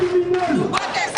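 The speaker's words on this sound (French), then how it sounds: "C'est une foule habillée de noir qui manifeste dans les rues de Cayenne" A street crowd of protesters dressed in black, marching through Cayenne, gives a brief burst of massed shouting and chanting voices at close range.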